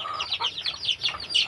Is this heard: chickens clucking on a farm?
yes